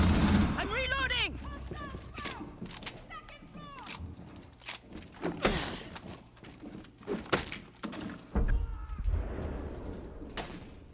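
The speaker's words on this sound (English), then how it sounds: "I'm reloading!" A weapon is reloaded in a tactical shooter game, with a laser kit loading a new magazine: scattered metallic clacks and snaps mixed with bursts of gunfire, mostly under people talking.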